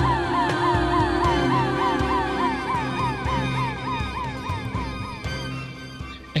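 An ambulance siren wails loudly and steadily, its repeating rising and falling tone cycling over a low hum of road traffic.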